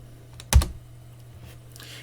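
A computer keyboard in a quiet room gives a single sharp keystroke click up close, followed by a few faint taps.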